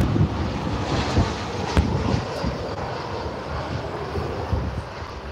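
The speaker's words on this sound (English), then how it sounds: "There we go, arrival now. Ryanair coming in from Alicante." A Ryanair airliner arriving from Alicante comes in to land at Liverpool Airport, heard as a steady broadband engine roar mixed with heavy wind buffeting on the microphone throughout.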